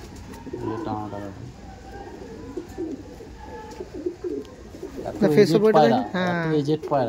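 Pigeons at a backyard loft holding more than a hundred birds give low cooing calls, with a denser burst near the end, heard beneath someone speaking close by.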